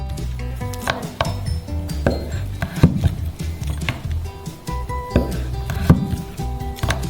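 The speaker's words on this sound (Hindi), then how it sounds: "हम चेडर चीज को पैक से खोलते हैं और इसे पहले स्ट्रिप्स में काटते हैं।" Block of cheddar cheese cut into strips with a knife on a board, giving repeated dull chopping knocks at an uneven pace, close and clear, with faint background tones and no talking.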